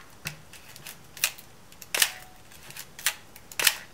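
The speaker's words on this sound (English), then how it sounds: "Now wind on a frame. Close the camera back." A Pentax MX film camera is wound on by hand and its back is shut, producing a sequence of crisp mechanical clicks and snaps spaced irregularly and heard up close in a quiet room.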